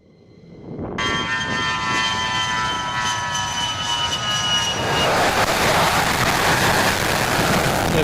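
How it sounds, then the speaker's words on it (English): An A-10 Warthog jet aircraft passing overhead in a combat strike setting: a loud, sustained roaring engine drone with whining tones that swells into a broad rushing noise. "A10 Warthog."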